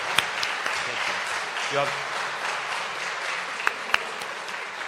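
A school audience in St. Petersburg gives an honored guest long, sincere applause, a steady wash of clapping heard beneath a spoken thank-you.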